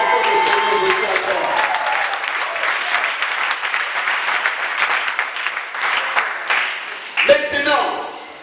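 A church congregation applauds in a sustained, dense clatter of many hands, with voices mixed in, before the clapping thins and breaks off near the end.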